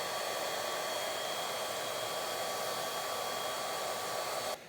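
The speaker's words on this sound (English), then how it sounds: "We're working the oil in with our brush and the hair dryer." A hair dryer blows steadily at close range while working oil into a beard, a constant whooshing hum, then cuts off abruptly at the very end.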